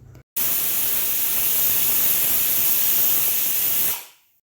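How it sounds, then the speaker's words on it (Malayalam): Pressure cooker cooking chickpeas lets out a loud, steady hissing whistle of escaping steam, starting abruptly, holding for several seconds, then fading away. "കടല അവിടെ വിസിലടിച്ച് ആയിക്കൊണ്ടിരിക്കുന്നുണ്ട്"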